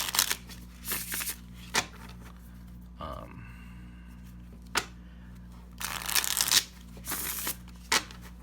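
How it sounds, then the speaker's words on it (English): Riffle shuffling of a Marseille tarot deck, heard as several short crisp bursts of cards flicking together, spaced apart and fairly close, with faint handling noise between them. "It riffle shuffles really well"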